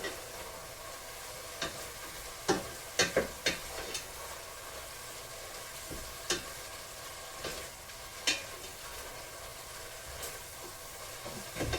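Chop suey stir-frying in a pan, a steady soft sizzle broken by sharp, irregular scraping and tapping clicks as the utensil stirs, close and alone without talk.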